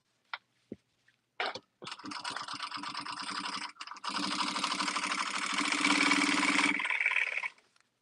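A production sewing machine runs long stitches along a fabric header, starting with a few clicks and short spurts before settling into a sustained, steady whir that speeds up slightly and then stops.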